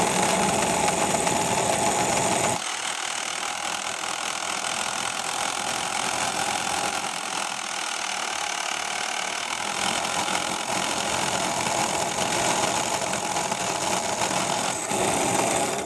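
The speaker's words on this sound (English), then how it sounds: "just pull the carriage forward and hopefully it'll cut a slot in the right place" A Meccano-built gear cutting machine runs while cutting a slot, giving a steady mechanical whirring drone throughout that shifts slightly in tone partway through.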